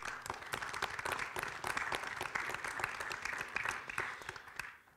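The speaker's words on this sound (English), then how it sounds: "Please give me a round of applause for Mr." Applause rises from the audience at a panel discussion, many hands clapping in a dense, uneven patter that holds steady and then fades away at the end.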